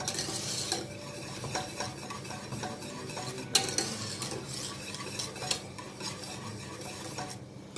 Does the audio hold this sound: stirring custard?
yes